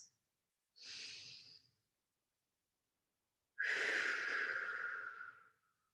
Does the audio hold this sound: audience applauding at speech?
no